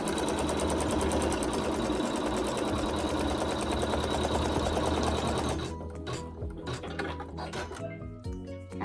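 A sewing machine tacks fabric onto a quilt block with a continuous, rapid mechanical hum for about five seconds, then stops, leaving scattered soft handling clicks and rustles of fabric nearby.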